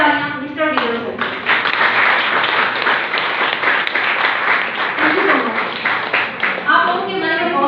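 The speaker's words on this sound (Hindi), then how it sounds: "मैं चाहूंगी कि एक जोरदार तालियां मिस्टर विक्रम सर" An audience at a health and wealth awareness seminar gives a vigorous round of applause, loud and continuous for several seconds, with a voice talking briefly at the start and end.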